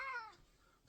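A single short cat meow with a falling pitch, fairly close and clear, fading away within a second.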